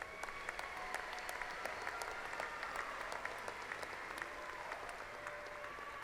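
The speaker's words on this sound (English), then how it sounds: "Please honor these graduates with a round of applause." Steady applause from a commencement audience honoring graduates at a university fall ceremony, a dense patter of many hands clapping continuously in a large hall, sustained at an even level throughout with no speech over it.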